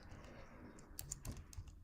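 Short burst of clicks from typing on a computer keyboard, several quick keystrokes fairly close, with no speech.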